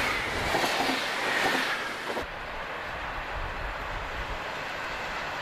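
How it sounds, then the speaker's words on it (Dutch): A passing Interregio train from Aachen to Leipzig, hauled by class 110 electric locomotive 110-500, rumbles steadily at moderate distance as the rolling noise dips slightly midway and continues. "Daar komt het Interregio, met bestemming Leipzig vanuit Aken, getrokken door een 110, 110-500 in de prachtige TE-kleurstelling gestoken."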